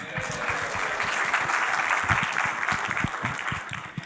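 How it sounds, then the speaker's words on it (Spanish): Church audience clapping for a man named Berto, a steady crowd applause with some distinct nearby claps and faint voices mixed in. "¿qué tal un aplauso para él?"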